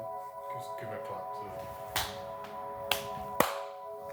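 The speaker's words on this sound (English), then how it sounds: "Yeah, if you just give me a clap." Single sharp hand claps in a room ring out three times, spaced about a second apart. Each is crisp and fairly close, with a low electrical hum and faint movement beneath.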